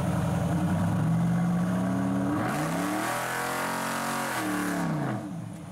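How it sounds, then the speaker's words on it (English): A twin-supercharged 1965 Chevy pickup truck engine revs hard, its pitch climbing and then dropping back before settling; loud and close, with no talking over it. "It's a 67? 65 Chevy pickup truck. Twin superchargers on it."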